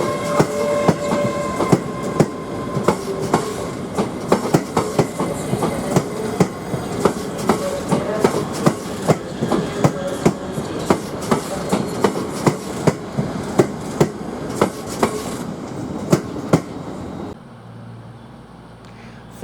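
LNER Class 801 Azuma train 801205 pulling out of a station, a steady rolling rumble punctuated by regular rhythmic clickety-clack wheel beats over rail joints, fading away near the end; no voices.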